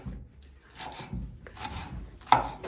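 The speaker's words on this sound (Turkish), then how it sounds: "Ben de burada yeşilliği doğrayayım dedim." A knife chops greens steadily on a board, soft rhythmic cuts repeating close by with a slight rubbing scrape between strokes.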